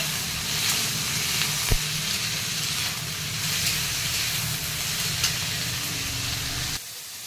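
Egg frying in oil in a home kitchen, a steady close sizzle and hiss running throughout with a faint clink, the frying noise dropping abruptly near the end.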